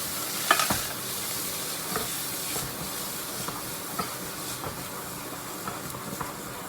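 Noodles coated in soy sauce crackle gently in a pan over low heat, with a steady soft sizzle and repeated light scraping taps of stirring spread evenly throughout.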